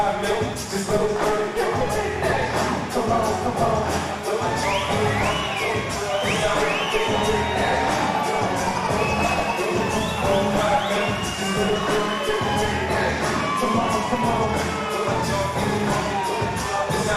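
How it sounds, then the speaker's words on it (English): Crowd at a boxing fight night cheering, whooping and applauding a featherweight fighter, a loud sustained roar of many voices filling the whole stretch. "Round of applause, please."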